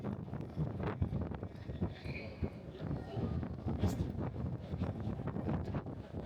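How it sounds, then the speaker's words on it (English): Wind gusts across the deck of the MSC Virtuosa cruise ship, a low rumbling buffet against the microphone that rises and falls continuously, with faint voices and occasional brief sounds mixed in. "It's definitely a bit windy."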